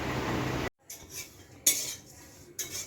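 Oats dry-roasting in a pan for breakfast give a quiet scatter of metal utensil clinks and scrapes, a few separate knocks with short pauses between them and no one talking.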